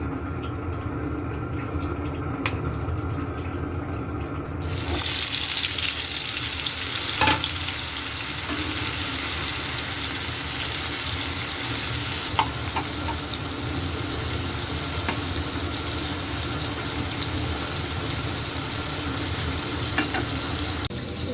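Chillies drop into hot oil with a sudden loud sizzle, then fry in a steady, crackling spatter that carries on alone in a village kitchen.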